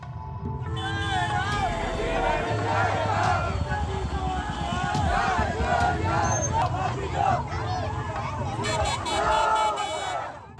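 Large crowd of protesters in Hyderabad, children among them, chanting slogans in loud rhythmic unison, voices layered over dense babble and street noise throughout, with whistles or shrill calls near the end.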